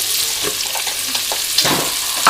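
Flour goes into a very hot cooking pot and sizzles steadily as it is stirred, with soft scraping and clinking of the utensil against the pot close by.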